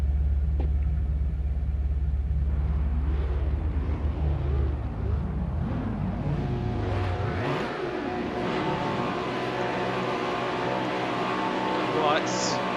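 Race car engines revving on the grid before the start of an ATCC touring car round at Tasmania in a racing video game, a loud rising and falling engine drone with sweeping pitch changes.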